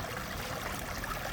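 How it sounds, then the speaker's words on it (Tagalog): Creek at John Lawson Park flows with a soft, continuous wash of running water, faint and steady throughout the short stretch, with no talking. "Bali ito ay tubig sapa."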